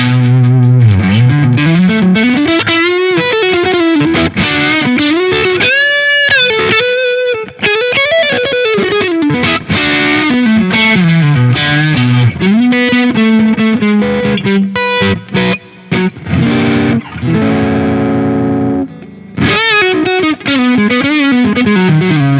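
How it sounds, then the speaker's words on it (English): An electric guitar plays blues licks through a Fender Machete tube amp on the gain boost, producing loud, distorted bends and phrased notes with short pauses between runs. "now this also sounds awesome on the gain boost for like blues and stuff"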